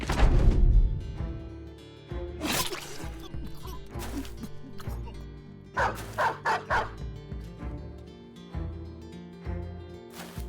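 Dog barks and yips from the video game Battle Brothers come in short bursts over a busy game soundtrack, with a cluster of loud barks in the middle and a few fainter ones later.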